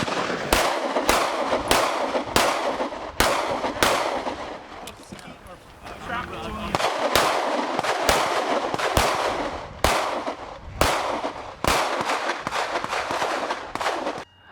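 Rapid, loud gunshots crack at close range during a stage of an outdoor IPSC practical shooting match at Kokohead, firing in quick bursts with brief pauses between strings.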